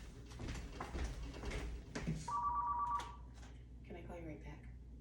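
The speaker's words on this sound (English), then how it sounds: "My phone's ringing, hold on." House phone ringing indoors, a short electronic trill of the ringer at moderate level after someone talks, followed by faint clicks and brief handling noises.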